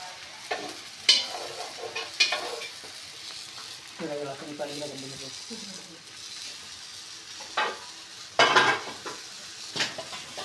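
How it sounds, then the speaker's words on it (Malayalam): Biryani rice frying in ghee with a low sizzle, broken by repeated spatula scrapes and metallic clanks against the pan. "വറുത്തെടുക്കണം ബിരിയാണി അരി"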